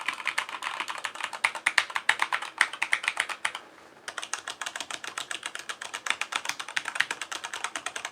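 Rapid clacking keystrokes on a Corsair K70 mechanical keyboard fitted with O-rings, close and crisp, with a brief pause midway before the typing resumes at a brisk rhythm.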